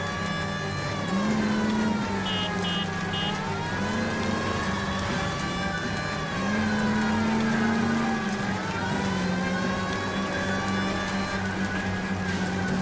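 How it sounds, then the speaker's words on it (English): A police car siren in the video game L.A. Noire wails steadily over a running car engine, rising and falling in long sweeps, loud and close, with no one speaking. "Turn the siren off"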